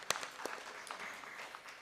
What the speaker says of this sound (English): I think we can clap for them.